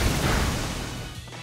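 Waterfall water-type attack landing in the Pokemon Sword video game, a loud dense crash-like burst of rushing impact noise that fades over about a second and a half, with no talking.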